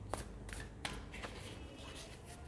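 Tarot cards are shuffled in quick, soft riffling bursts with a few sharper snaps, close and quiet, no voices over them.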